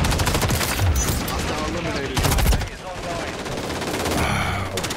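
Dense, loud automatic rifle fire in Modern Warfare 3 using an MTZ 556, continuous rattling bursts close up with game effects, and someone talking over it.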